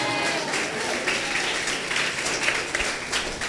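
A church congregation claps during a Hindi sermon, a dense, sustained wave of many hands applauding that stays fairly loud and even throughout, with faint voices mixed in.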